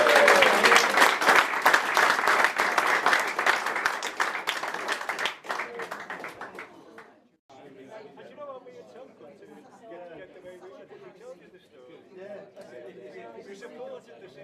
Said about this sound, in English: And once more, a really big round of applause for Tom Young.